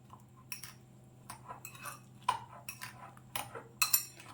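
Egg and turmeric mixed in a bowl with a utensil, producing sparse, quiet metallic clinks and taps against the bowl at irregular intervals.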